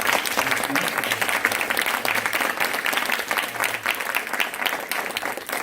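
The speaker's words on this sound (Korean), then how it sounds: "사회복지관 관장님 윤현희 관장님, 또 의정부시 장애인 종합복지관 정인철 관장님, 이 세 분께 큰 박수로 감사의 박수." Sustained applause from an audience at a job-interview talk concert held by a university's social welfare program, thanking three welfare center directors who appeared as guests; steady, dense clapping throughout with faint voices underneath.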